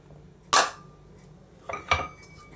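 A metal lid set onto a pan where momos are steaming over water: one sharp clank, then a pair of lighter metallic clinks a second later, close and alone in a quiet kitchen.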